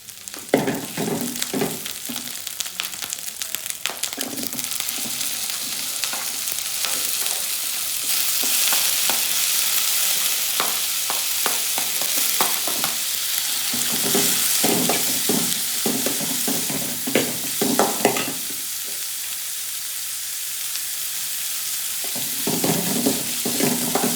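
Onions fry in a pan for Tamil-style egg bhurji, with a continuous loud sizzle and repeated scraping and stirring strokes of a spatula close by, and no talking.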